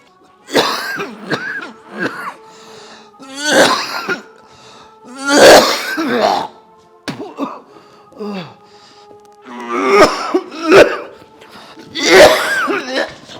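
Several harsh coughs and throat-clearing bursts come in irregular clusters, close and fairly loud, with a few short voiced sounds mixed in.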